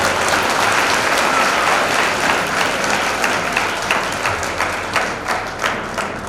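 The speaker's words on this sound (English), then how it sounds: "you can express your willingness by clapping your hands." Wedding guests clap their hands in a dense, sustained round of applause that stays loud throughout and tapers slightly toward the end, with no talking over it.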